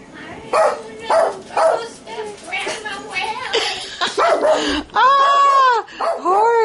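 A dog yips, whines and whimpers in short bursts indoors, with a voice speaking between the sounds close by.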